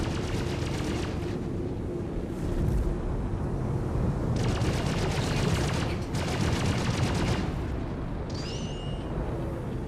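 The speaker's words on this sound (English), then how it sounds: "My missiles are not fucking connecting at all." Missiles firing in a fast-paced video game: repeated bursts of sharp, rapid blasts and rumbling explosions over a steady dense background, loud and continuous, with no talking.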